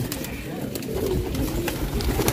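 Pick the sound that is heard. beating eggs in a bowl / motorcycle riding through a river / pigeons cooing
pigeons cooing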